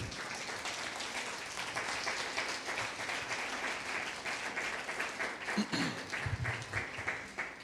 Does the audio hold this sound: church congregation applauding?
yes